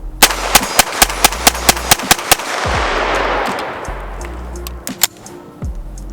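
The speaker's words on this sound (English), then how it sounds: "we have to have a mag dump" A CZ Shadow 2 pistol fires a fast string of about ten sharp, loud shots in even rhythm, then a pause with a low rumble, followed by a couple of scattered shots.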